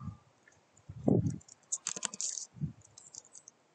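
Key presses on a TI-Nspire CX graphing calculator keypad, a few soft close clicks in a short burst, quiet and with no talking.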